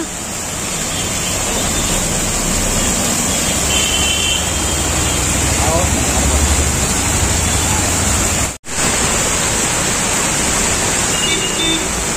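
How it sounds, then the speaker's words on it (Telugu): Water rushes loudly and steadily at Araku waterfalls, a dense continuous roar from close by that drops out for a moment near the end. Faint voices sound in the background. "అరకు వాటర్ ఫాల్స్ అట"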